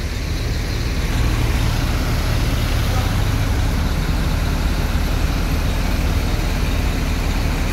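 An MPM bus drives on in a convoy of intercity buses on a wet, rainy road, its engine and tyres giving a steady, loud, continuous roar of traffic noise with no break.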